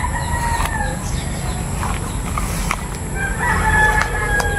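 Roosters crow and chickens cluck around a backyard coop, with a loud cock-a-doodle-doo standing out over steady outdoor noise and scattered clucking close by.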